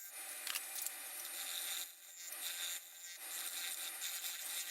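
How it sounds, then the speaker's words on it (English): Rough sanding on a turned oak and walnut bowl spinning on a lathe, a steady hissing rub that runs continuously with a few brief dips in level. "I just like to do some rough sanding in between."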